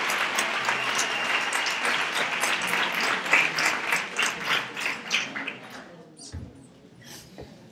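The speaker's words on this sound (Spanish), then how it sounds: "¡Fuerte el aplauso!" A crowd at a Three Kings proclamation and coronation event in Nerva, Spain, applauds with steady, fairly loud clapping that swells in the middle and then thins out and fades near the end.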